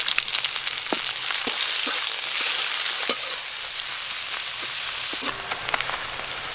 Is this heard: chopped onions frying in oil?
yes